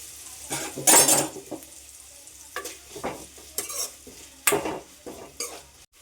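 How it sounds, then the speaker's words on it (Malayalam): Sliced onions sautéed in a pan for a beef roast, with a few bursts of scraping and stirring over a soft, steady sizzle, close by and with no talking. "നമ്മൾ ഈ സവാള നല്ല സോഫ്റ്റായിട്ട് വഴറ്റി കളറൊക്കെ മാറുന്നത് വരെ നമുക്ക് ഒന്ന് വെയിറ്റ് ചെയ്യാം"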